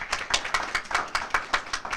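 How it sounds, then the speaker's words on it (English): Audience applause at a graduate stole ceremony, a light scattering of hand claps in a quick uneven rhythm, fairly faint and distant with no voices over it. "Let's clap for him"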